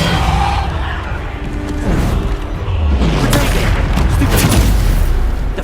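Depulso spell cast during combat in the video game Hogwarts Legacy, a loud whooshing blast with rumbling booms amid dense battle effects, continuous and close.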